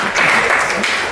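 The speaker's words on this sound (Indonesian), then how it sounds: "beri tepuk tangan dulu buat teman-teman yang" Participants at a teacher training session are applauded, with a brief burst of group clapping at moderate loudness, dense and even throughout.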